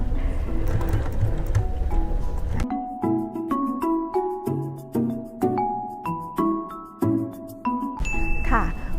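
A sewing machine stitches a fabric seam, its needle running in short repeated bursts with clicking stops between, alongside bright ding-like tones and someone speaking over the stitching.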